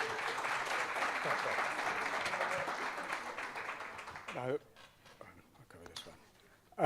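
A seminar audience gives a round of applause for a professor, a dense wash of clapping that fades after a few seconds into quiet room noise and a voice.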